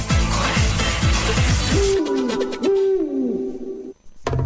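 A loud owl hoot from a Licor 43 liqueur advert sounds as a sustained tonal call in the middle of the clip, preceded by bold rhythmic music and followed by a sudden drop to near silence before a brief burst.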